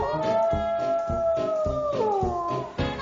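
A drawn-out, wavering howl rises and falls steadily for a few seconds, sounding like a voice imitating an animal's cry.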